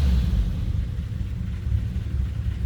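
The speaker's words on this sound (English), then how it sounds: "Push the starter button. And it fires up." A 1934 Ford Deluxe 5-window coupe engine idles right after starting, a loud, close low rumble that holds steady with slight pulsing and no talk over it.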